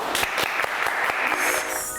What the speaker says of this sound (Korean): 네, 박수 부탁드릴게요.